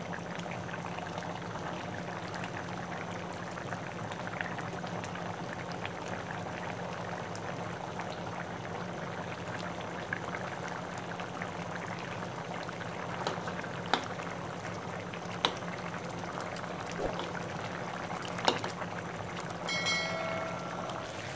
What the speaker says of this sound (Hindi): पानी को हम कर लेते हैं ड्राई ज़रा हाई फ्लेम पे।